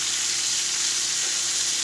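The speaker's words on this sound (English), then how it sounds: "we are frying up some bacon. Hear that goodness sizzling?" Bacon frying in a pan, a steady broadband sizzle and crackle that holds evenly throughout, close and fairly loud with no talking.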